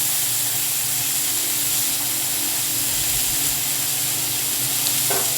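Cauliflower florets frying in oil with salt and turmeric, a loud continuous close sizzle and hiss with a faint stir near the end, no talk.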